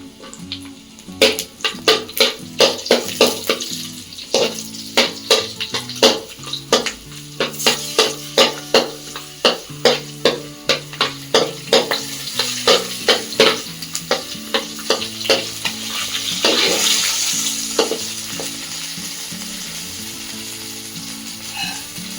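Green chillies, curry leaves and garlic roasting in a pan for avalakki oggarane, sizzling under quick, rhythmic stirring strokes that scrape the pan, close and fairly loud, with the stirring easing into a steadier sizzle toward the end.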